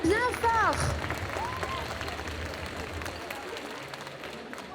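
Applause and cheering from a crowd greet a cosplayer at a costume parade during a French game show, loud at first and then fading to scattered clapping, with an announcer's voice at times.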